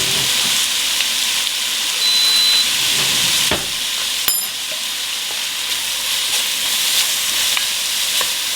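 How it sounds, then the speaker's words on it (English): Chicken noodle frying in a pan, giving a steady, even medium sizzle with soft hiss throughout, close and moderately loud, with a few faint clicks and stirring scrapes along the way. "Right now we have like a good medium sizzle, it's not too loud."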